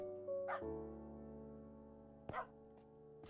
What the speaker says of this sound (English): these dogs, I wish these dogs would shut up